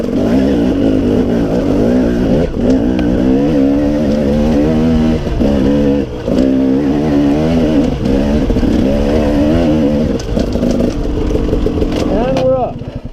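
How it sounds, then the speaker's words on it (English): A KTM 300 XC dirt bike rides a singletrack trail, its two-stroke engine buzzing loud and close throughout, revving up and down steadily with brief dips as throttle changes. "So let's just listen to the bike."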